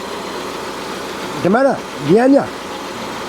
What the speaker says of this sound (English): this is the garbage truck, right?